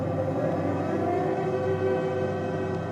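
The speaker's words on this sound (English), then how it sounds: "At 33 minutes past 12, the sirens sound." A steady, droning air raid siren wails without a break during a Second World War night bombing raid on Hamburg, a sustained tone that holds level under a noisy, rumbling background.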